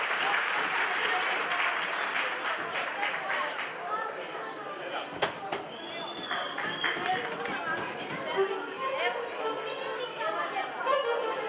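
Applause from a folk dance concert audience, dense sustained clapping mixed with crowd chatter, steady and loud throughout with a few sharper claps standing out.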